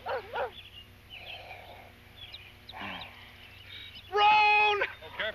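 A dog in a 1972 short film gives a few short yips and barks, with a louder harmonic whine or bark near the end, spaced between quiet stretches with some background voices.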